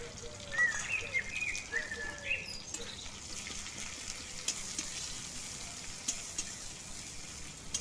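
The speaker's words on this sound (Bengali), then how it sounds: "এর মধ্যে দিয়ে দিচ্ছি একটা কুচানো পেঁয়াজ। এবার পেঁয়াজটা একটু নাড়াচাড়া করে নেব।" Chopped onion sizzling in a pan in a village kitchen, a fairly faint continuous hiss with soft stirring sounds, birds chirping in the background early on.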